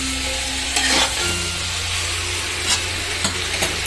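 Potatoes for bhungra bateta are stirred in a hot pan over a lit gas flame, a steady loud sizzle of frying with scraping strokes of the spoon at irregular moments.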